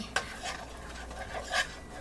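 Beef curry is stirred in a wok, a spatula scraping and clinking against the metal in a few quick strokes, close and fairly soft, with a faint sizzle underneath.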